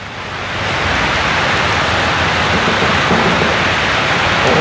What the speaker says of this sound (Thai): พายุกระนำ พร้อมฟ้าพร้อมฝนเลยพอดีเลย